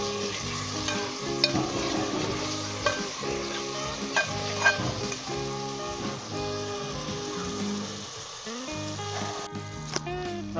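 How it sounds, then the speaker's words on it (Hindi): Desi chicken pieces fry in a pot with spices, ginger, garlic and onion, giving a steady close sizzle broken by repeated scraping and clanking stirs of a spoon against the pan, with a voice speaking intermittently over it. "मैंने अच्छे तरीके से भून ली है देसी मुर्ग को मसालों के साथ और अदरक, लहसुन, प्याज वगैरह के साथ"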